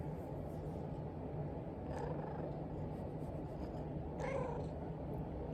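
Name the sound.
cat meowing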